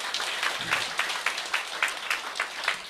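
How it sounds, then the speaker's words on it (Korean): A seminar audience gives a short round of clapping, a quick run of rhythmic claps at moderate loudness that carries on steadily for a few seconds. "박수 한번 치세요"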